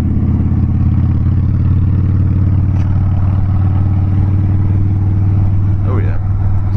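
A Harley-Davidson Dyna Wide Glide with a twin cam engine cruises on an open road, its low, throbbing exhaust rumbling steadily and loudly throughout, with wind rush and a rider's voice over it.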